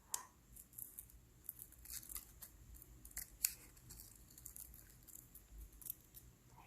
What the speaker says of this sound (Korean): 자투리 남은 거 있으면 이렇게 가위질을 하세요.